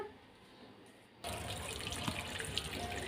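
A household tap abruptly opens and water gushes into a container, a steady close rushing stream that continues to the end after a quiet start.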